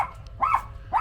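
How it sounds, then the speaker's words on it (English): A small Maltese dog barks twice in the background, with short sharp yips standing out over a low steady hum, somewhat distant and moderately loud. "you can hear my guard dog, my little Maltese, in the background"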